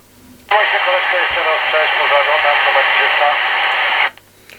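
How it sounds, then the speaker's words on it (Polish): A burst of loud, steady static hiss from a TTI TCB 550 CB radio starts abruptly, holds for several seconds, then cuts off just as suddenly. "radio działa, no szum jakiś jest, bo szum będzie"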